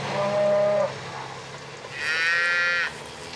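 Tiger-striped rustic cattle in Corsican scrubland give two loud mooing calls, the first lower and shorter, the second a longer higher bellow after a brief pause, close by over a faint engine rumble.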